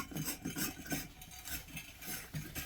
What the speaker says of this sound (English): Let's actually screw the bulb in